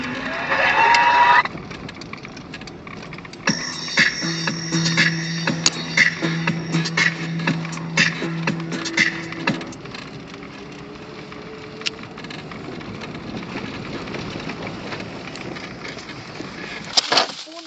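A car revs and drives near and loud, with engine surges, tonal whines and scattered clicks over about eighteen seconds while voices talk over it at times.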